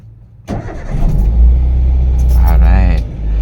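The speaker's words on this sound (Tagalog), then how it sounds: "so nag-start na tayo ng makina" A car engine cranks and catches after a brief quiet moment, then settles into a loud, steady rumble close by, with a short rise in revs partway through.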